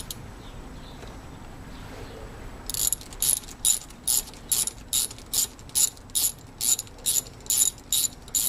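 Ratchet loosening a bolt on the throttle body housing of a Jaguar XJ8 Vanden Plas, starting after a quiet pause with a rapid series of about a dozen sharp, close clicking strokes in a steady rhythm.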